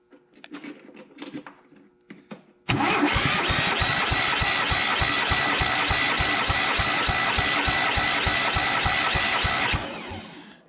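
A John Deere mower engine cranks steadily with spark plugs out for a compression test, a fast even chugging that runs loud and close for about eight seconds after quieter handling noises, then stops.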